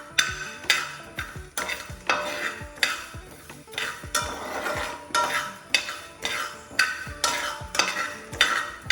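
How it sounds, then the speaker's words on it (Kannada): Cumin seeds being dry-roasted in a hot pan at home, a spoon stirring and scraping them in regular strokes with a soft sizzle and light metallic clinks, close and steady with no talking. "ಅದೇ ಸ್ಪೂನಲ್ಲಿ ಅರ್ಧ ಸ್ಪೂನು ಜೀರಿಗೆ. ಸೊ ಇದನ್ನು ಸ್ವಲ್ಪ ಹೀಗೆ ರೋಸ್ಟ್ ಮಾಡುವ."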